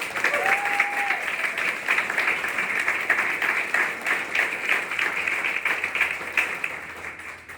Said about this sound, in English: give applause to Rick Trim